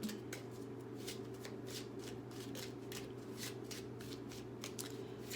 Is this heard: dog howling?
no